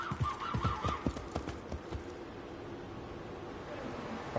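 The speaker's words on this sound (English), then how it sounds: "Some horses here." Horses in Assassin's Creed Mirage clip-clop in a quick, uneven hoof rhythm, loudest early on, then fade into a soft wind-like ambience with a faint neigh.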